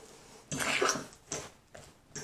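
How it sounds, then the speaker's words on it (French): Keto fat head pizza dough of melted mozzarella being mixed by hand in a bowl, a few short scraping, sticky strokes in quick bursts, close and fairly quiet. "Je les mélange comme ça."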